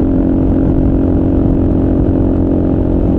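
Kawasaki KLR motorcycle engine cruising at highway speed around 5,000 RPM, a loud, steady drone with wind rush, constant and unbroken throughout without any talk.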